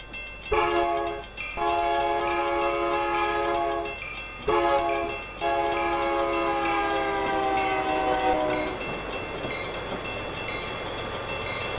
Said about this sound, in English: Slightly unorthodox horn